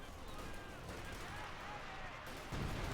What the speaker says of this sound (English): Artillery called in here